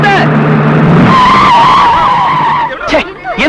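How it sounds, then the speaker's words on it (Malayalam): A bus brakes hard, its tires letting out a loud, drawn-out screech that rises and holds for a couple of seconds before fading, followed by brief speech close by. "വണ്ടി ഇങ്ങനെ വലിയ ശബ്ദത്തോടെ ബ്രേക്ക് ഇടുന്നത് കാണാൻ നല്ല ശേല"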